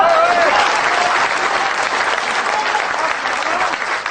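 Audience applause at a Hindi comedy talk held at an MBA college: dense, steady clapping from a large crowd that fills the whole stretch at an even, loud level.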